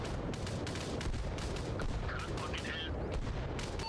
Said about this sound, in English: Looks like I just called in a mortar support.